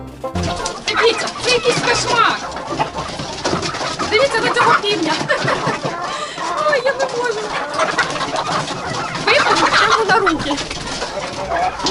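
A dense, busy chorus of chickens clucking and cooing close by as they are fed, continuous throughout, with a voice speaking among the birds.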